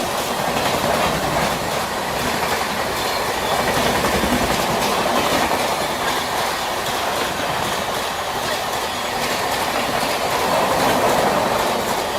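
An Indian Railways train passes in the opposite direction at speed, a loud, steady rushing roar with rapid rhythmic clickety-clack of wheels and faint wheel squeal, sustained throughout.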